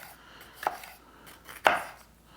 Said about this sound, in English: Let's give this a little slices,